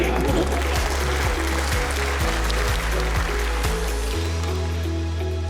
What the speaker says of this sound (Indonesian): Mau nggak tepuk tangan?